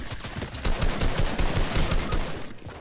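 Rapid bursts of automatic gunfire in a Fortnite match, loud and close, with dense repeated shots running almost continuously before cutting off near the end.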